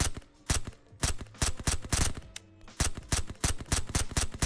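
Automatic gunfire in a zombie shooter: rapid, evenly spaced bursts of sharp shots, loud and close, pausing briefly midway before resuming in a steady rhythm, with no talking.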